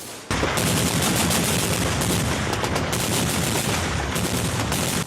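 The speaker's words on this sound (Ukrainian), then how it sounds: "стріляють з усіх видів зброї" Loud, continuous bursts of gunfire from several weapons during Ukrainian military training in Volyn near the Belarus border, rapid automatic fire overlapping with heavier shots, nearby and relentless.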